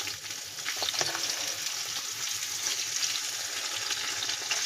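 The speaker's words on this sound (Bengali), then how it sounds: "প্রথম হচ্ছে আমি পেঁয়াজটা ভাজতে বসিয়ে দেবো।" Onions frying in oil in a wok, a steady close sizzle that holds at an even level throughout, with faint stirring scrapes now and then and no talking.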